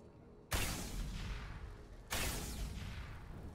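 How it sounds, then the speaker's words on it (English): Two heavy booming explosions in Mass Effect 2, each a sudden loud blast followed by a long rumbling decay, spaced about a second and a half apart. "Shep loves explosions, guys."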